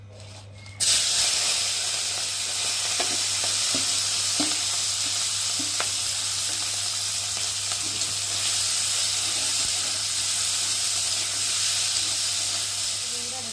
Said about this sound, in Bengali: আর এখন এই যে কাঁকড়াগুলোকে নিয়ে ভেজে নেব